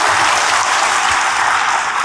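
A church congregation claps for the Lord during an Indonesian-language sermon, a brief, loud, dense burst of applause lasting about two seconds, steady throughout with no speech over it.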